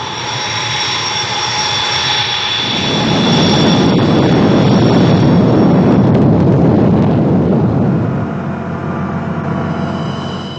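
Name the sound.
military jet aircraft engines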